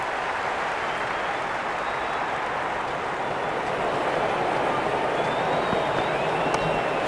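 Stadium crowd noise at a Sydney Sixers vs Melbourne Stars cricket match, a dense, steady roar of cheering and applause throughout, swelling slightly in the second half, with distant voices mixed in.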